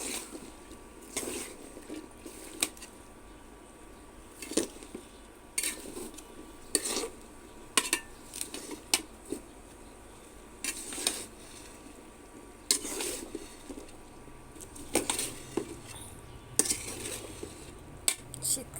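Winter vegetables being stirred in a cooking pot for a vegetarian dish, with repeated scraping and clinking of a utensil against the pot in irregular bursts over a faint steady background hum, close and moderately loud, without talk.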